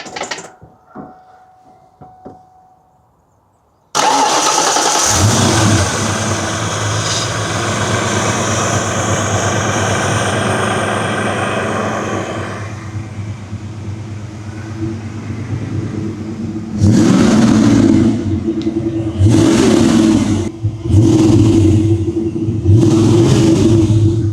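A Ford Fox-body Mustang engine bursts into a loud, steady roar after a quiet opening, drones on, then is revved in several sharp blips near the end, with no talking.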